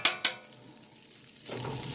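Bacon grease sizzling and being stirred on a Green Mountain Grill griddle, with two sharp scraping clicks from the spatula followed by a continuous hissing fry that swells near the end.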